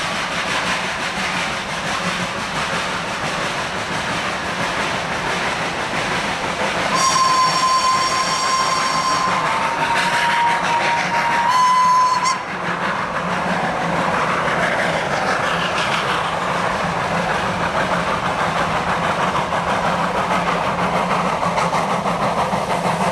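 The Achenseebahn mountain railway train in Austria rumbles and clatters steadily along the track, with a long whistle-like tone sounding twice midway through the continuous rolling noise.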